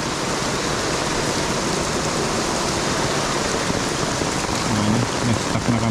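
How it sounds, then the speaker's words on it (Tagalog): Steady rain pours down in a dense, even hiss of drops hitting surfaces, constant throughout with no voices. "Na-stuck na kami sa ulan."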